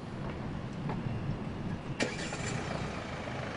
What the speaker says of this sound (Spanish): Voy a encender el auto.